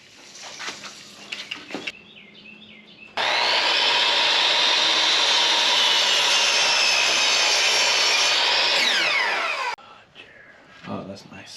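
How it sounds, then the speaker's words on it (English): Pine wood being cut with a loud, steady power-saw whine lasting several seconds, bracketed by quieter workshop handling and knocks during a GMC motorhome rebuild. "let's just start cutting and screwing stuff together"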